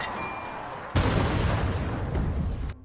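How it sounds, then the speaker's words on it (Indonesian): A car blows up among zombies in a film, giving a sudden heavy boom that cuts in abruptly and then rumbles on as a loud, sustained, noisy roar before stopping sharply. "mobil itu meledak mengocar-ngacirkan tubuh para zombie"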